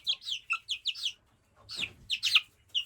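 Hens, including frizzle chickens, on a hilltop farm cluck and chirp in a series of close, bright calls, a rapid run of short notes, a pause, then louder squawks.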